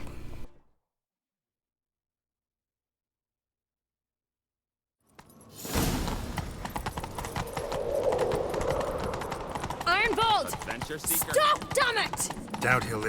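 After a stretch of silence, rapid clip-clop hoofbeats of a galloping horse fill the scene in The Witcher 3: Wild Hunt, steady and close, with brief high squeals layered on top.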